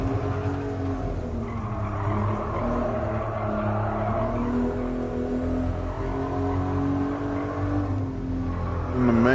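A Toyota Supra accelerating hard in third gear, its engine note a loud, steady, rising drone with strong low harmonics held for the whole stretch, a slight swell in the final moment.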